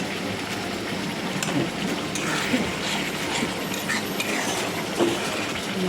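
Spice paste being stirred and fried in a pan while cooking koi fish curry, with steady close scraping and clinking of a spoon against the pan over a soft continuous sizzle.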